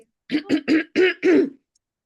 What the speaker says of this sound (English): Just clearing my throat.